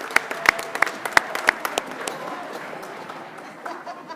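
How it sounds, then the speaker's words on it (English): A handful of sharp, distinct claps ring out at a Board of Education meeting, then swell into a softer wash of audience applause that fades gradually toward the end. "yeah, give him a round of applause"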